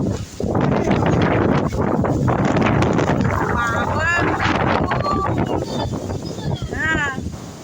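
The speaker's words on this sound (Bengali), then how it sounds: "কি হাওয়া দিল, কি ঝড় কি ঝড়।" Strong Kalbaishakhi storm wind roars and buffets in a loud, continuous rush while people call out and shout over it.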